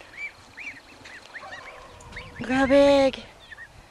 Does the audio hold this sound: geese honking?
yes